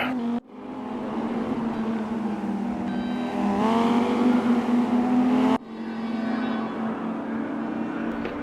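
An Audi race car in a racing video game, during an endurance race at Silverstone. Its engine drones steadily and loudly, rising in pitch mid-run before a sharp gear change drops it back, with no talk.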